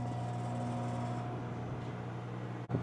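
A Samsung slim over-the-range microwave oven heating teriyaki chicken runs with a quiet, steady low hum that ends in a brief click.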